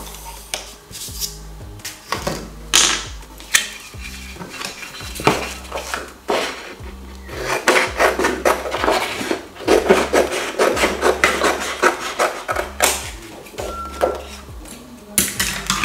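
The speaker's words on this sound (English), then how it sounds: "So we'll just cut the paper in half." Paper is cut in half while making ink pens, with repeated scraping, rubbing and tapping sounds of a blade and tools against paper on a hard surface, irregular and close, with no voices.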